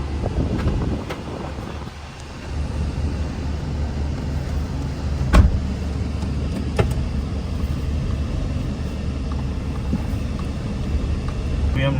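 Small car pulling away and driving, its low engine rumble steady under heavy wind buffeting on the microphone, with a brief bump partway through.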